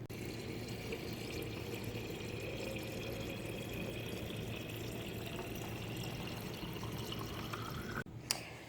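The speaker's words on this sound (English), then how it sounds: "I put it in a jar and I fill it up with filtered water." Filtered water runs steadily into a jar for several seconds, a continuous pouring hiss that stops abruptly near the end, followed by a faint clink.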